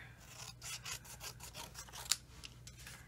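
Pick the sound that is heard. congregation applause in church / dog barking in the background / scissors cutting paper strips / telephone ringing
scissors cutting paper strips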